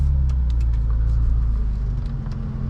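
A 2024 BMW M2 G87 rolls down a street, its engine giving a steady low rumble with road noise and faint ticks, heard from inside the car with no one talking.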